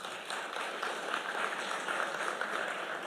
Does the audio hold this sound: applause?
yes